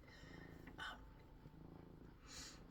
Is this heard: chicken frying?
no